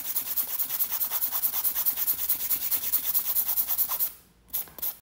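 A file works rapidly back and forth on an extra-long extended acrylic nail, shaping a straight area from the apex to the free edge. The scratchy strokes are close and steady, then break off near the end, with no talk.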